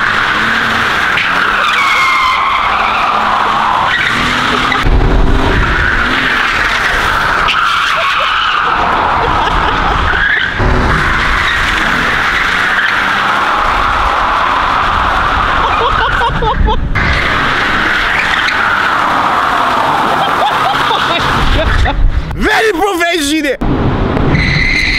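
A van drifting on a city street, its tires skidding and squealing almost continuously alongside a loud engine, while people talk and shout over it.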